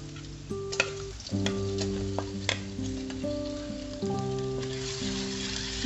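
Shrimp stir-fried in a hot pan sizzle steadily under a low background hum, with several sharp scrapes and taps of the spatula.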